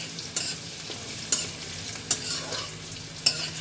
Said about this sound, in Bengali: রসুনটাকে তেলের মধ্যে একটু ফ্রাই করে নিতে হবে